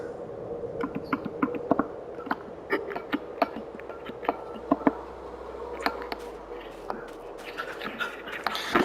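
Bees buzzing in Farming Simulator 22: a continuous mid-pitched insect hum, faint and steady, dotted with frequent small clicks, and a slightly busier stretch toward the end.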